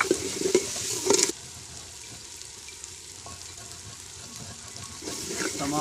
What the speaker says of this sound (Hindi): तमाम चीज़ें हमने भून ली हैं।